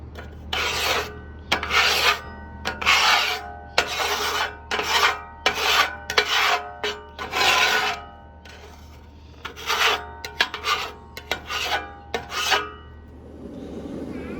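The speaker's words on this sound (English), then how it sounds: "got all the big chunks scraped off and thrown in the mason jar" A metal scraper grinds food residue off a Camp Chef flat-top griddle in repeated loud, close rasping strokes with short pauses between them, and no one speaks.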